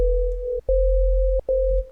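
Vital synthesizer preset built on a harmonic oscillator whose level is modulated by an LFO in trigger mode: a steady pure tone that cuts out in three pulsing bursts, loud and with nothing else around it.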